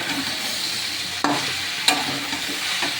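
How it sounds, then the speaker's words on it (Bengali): Vegetables stir-fry together with boiled cauliflower stems in a pan, a constant close sizzle with two sharp spatula knocks against the metal, no voices. "যে কপির ডাকটা সেদ্ধ করে রেখেছিলাম এটা এবার এর মধ্যে দিয়ে সব এবার একসাথে কষিয়ে নেব"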